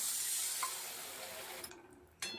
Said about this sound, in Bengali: এবার এই দেখো মিক্সির বাটিটা দিয়ে একটু পরিমাণ মতন জল দিয়ে দিলাম